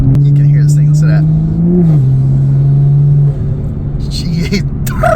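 BMW M3 fitted with a Valvetronic exhaust revving loudly nearby, its engine note climbing and holding in a steady drone, then dropping away into a rumbling idle.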